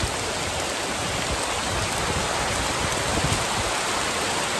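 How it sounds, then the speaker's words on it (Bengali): Heavy rain pours during a Kalbaishakhi storm beside a pond in a mango grove, a dense, loud, unbroken roar of downpour with no voices. "অনেক জোরে বৃষ্টি হচ্ছে"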